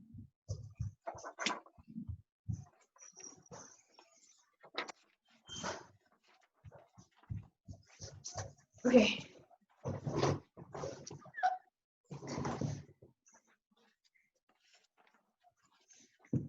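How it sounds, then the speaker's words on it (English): A dog whimpers, whines and scrabbles indoors in scattered short bursts with quiet gaps, fairly close, and a person briefly speaks once. "I need to go take out my dog."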